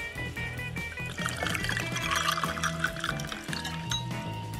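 Hot milk is poured into a glass in a continuous liquid stream that fills the glass, heard over steady background music.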